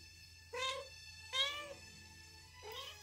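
A house cat begging for a treat gives three separate meows, evenly spaced and fairly close, in an otherwise quiet room.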